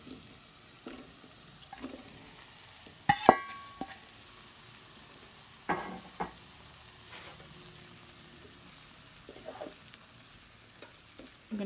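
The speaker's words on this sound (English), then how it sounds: "To that, I'm going to go ahead and add the kidney beans right now." Kidney beans added to softened onions in a pan for spicy bean and cheese burritos, with a low sizzle and occasional scraping and stirring clatter, a sharper clunk near the start, fairly quiet and close with no talking.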